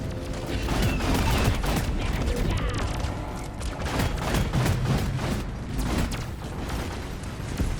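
Dense, nonstop gunfire and blasts fill a battle in the video game Deep Rock Galactic, a loud continuous barrage of rattling shots and booms with voices calling out underneath.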